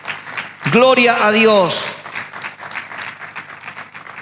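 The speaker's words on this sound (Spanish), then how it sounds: "Denle un aplauso a Jesucristo si lo cree" A church congregation breaks into a broad wash of clapping right after a short spoken exclamation, the applause carrying on evenly to the end.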